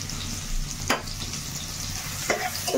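Onions and cumin frying in a pan for an Odisha-style prawn curry, a steady close sizzle with two sharp stirring scrapes.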